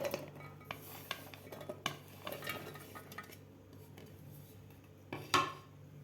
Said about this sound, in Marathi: इथे एक मी मिक्सरचं भांडं घेतलेलं आहे. त्यामध्ये आपल्याला हे नारळाचे काप घालून घ्यायचे आहेत.